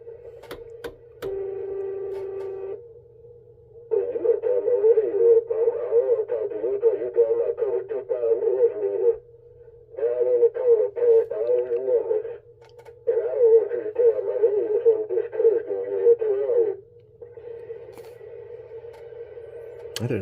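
Radio with another station bleeding over, a warbling buzzy transmission that comes in long bursts with brief gaps, under a steady low hum, moderately loud.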